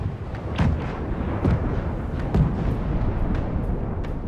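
Enemy ship cannons in a naval video game fire as a series of heavy booming blasts, several distinct shots spaced over a few seconds against a rumbling background, with no voices.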